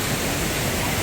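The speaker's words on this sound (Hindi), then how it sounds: "आ चुके हम लोग वाटरफॉल के पास" Phurli Jharan waterfall in Odisha pours with a dense, constant broadband roar, loud and close, with no change across the short stretch.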